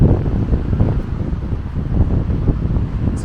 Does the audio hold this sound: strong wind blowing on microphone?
yes